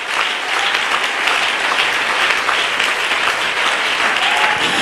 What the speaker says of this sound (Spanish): Si ese aplauso es para Él, de lo más fuerte